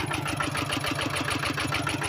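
A tractor engine runs steadily while working through thick mud, a close, continuous rhythmic chugging with a fast regular pulse and no pauses.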